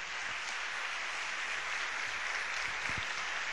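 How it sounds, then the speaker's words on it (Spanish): Audience applause at a TAT Granada 2013 talk featuring Samanta Villar, a steady, even wash of many hands clapping with no clear individual claps. "Se merece un aplauso"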